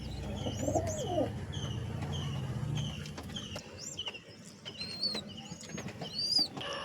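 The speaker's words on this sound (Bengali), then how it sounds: "আমি পায়রাকে খাইয়েও দেখিয়ে দিচ্ছি।" Pigeons in a loft being given water mixed with a medicine, cooing in soft repeated low throbs alongside sharp chirps and tweets, fairly close and quiet, with no talking.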